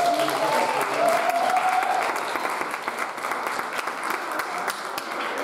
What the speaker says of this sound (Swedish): En varm applåd för dem.